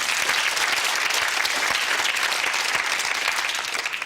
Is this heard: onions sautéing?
no